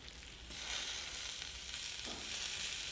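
Green beans in tomato sauce simmering in a pan for a Sicilian-style dish, a steady close sizzle and bubbling hiss that grows slightly louder partway through, with no voices.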